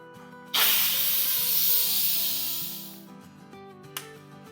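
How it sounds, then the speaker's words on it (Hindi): A pressure cooker holding nihari vents steam in one loud, close hiss that bursts in suddenly, holds for about two seconds, then tapers off, with a brief clink near the end. "प्रेशर डाउन हुए हुए 4 मिनट हो गए, तो चले वेंट कर लेते हैं।"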